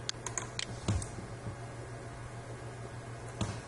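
Keystrokes on a computer keyboard as a username and password are entered, a few scattered clicks over a steady low hum, fairly quiet and close, with no talking.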